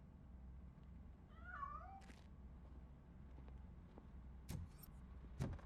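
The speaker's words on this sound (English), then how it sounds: "That cat must be hiding inside." A cat meows in the video game RoboCop: Rogue City, a single short wavering call at moderate distance over a low ambient game drone, followed by a few faint clicks and bumps.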